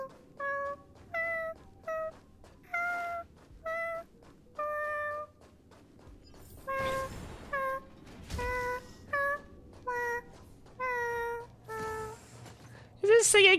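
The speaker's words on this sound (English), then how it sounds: "it meows at you." A cat in Honkai: Star Rail meows repeatedly, about a dozen short bright calls in a loose rhythm, near and clear over quiet game ambience, with a faint voice and a louder burst at the end.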